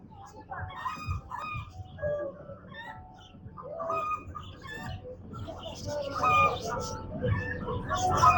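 Chickens cluck and crow around an outdoor yard on a family outing, heard intermittently under steady nearby talking throughout.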